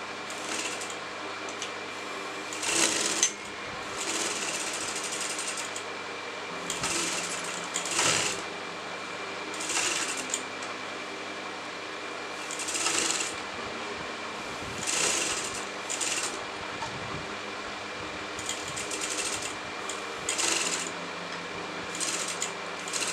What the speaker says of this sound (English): I'm going to sew at the exact margin of the neckline